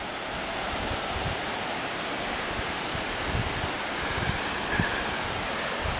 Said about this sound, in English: And right down there is Tinker's Creek. It's raging right now because we had a ton of rain last night.